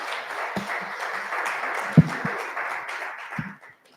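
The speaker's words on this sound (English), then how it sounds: "A round of applause, ladies and gentlemen." An audience applauds at a Zambia Diaspora Chamber of Commerce event after a presentation. The clapping is brief and moderately faint, builds to one loud sharp clap, then fades to silence.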